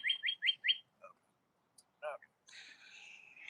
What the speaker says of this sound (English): Yes, the birds are singing.